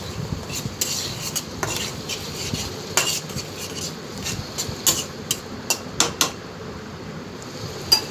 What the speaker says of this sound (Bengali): এবার আমি বড় চাঁদের একটা টমেটো দিয়ে আমি আবার ভালো করে কষিয়ে নেব।